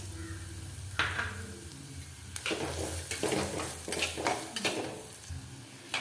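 Chopped ginger being stirred and sautéed in hot oil in a pan, with scraping stir strokes and light sizzling, a few sharper utensil knocks against the pan, close and fairly loud with no talking.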